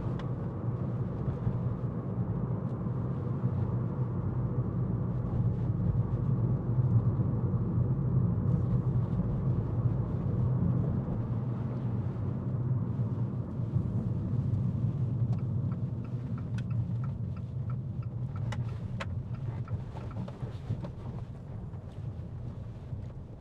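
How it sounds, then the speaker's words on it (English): Abarth 595 1.4 T-Jet Turismo, a 2020 three-door hatchback, with its engine droning steadily from inside the cabin on a test drive, accompanied by road and wind rumble and no talking. "The sound of the engine."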